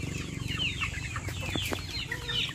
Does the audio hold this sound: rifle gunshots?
no